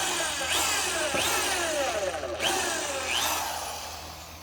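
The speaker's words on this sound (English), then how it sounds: "it's just going to be a matter of drilling our pilot holes and then sinking the carriage bolts through" A power drill boring pilot holes for carriage bolts into the wood of a backyard shed ramp, a whining motor rising and falling in repeated pulses, close and fairly loud, with no talk.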